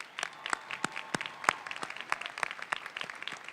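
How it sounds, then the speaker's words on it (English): Audience applause at the UCLA School of Law commencement, May 2017: a scattered, moderately distant ovation of many hands with a few sharper individual claps standing out, steady over a few seconds. "That gets a real clap"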